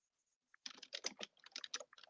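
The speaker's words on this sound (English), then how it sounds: "I'm typing it now." Rapid computer keyboard typing in irregular bursts of close, crisp key clicks after a brief quiet start, with no talking.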